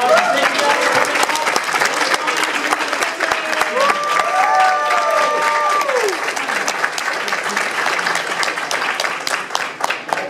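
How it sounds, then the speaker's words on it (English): Sustained applause from a convention panel audience at WonderCon 2015, dense and steady throughout with a few tonal electronic sounds drifting over the middle. "Let's give our panelists a round of applause."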